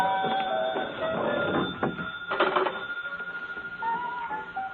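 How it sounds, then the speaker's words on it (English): An old-time telephone bell rings in a vintage radio drama, a steady repeating trill heard through a narrow, lo-fi broadcast sound with faint background murmur. "Telephone's ringing."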